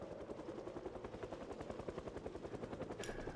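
Helicopter in a video game, heard as a faint, steady rhythmic rotor chop that keeps going throughout at a distance, with no voices.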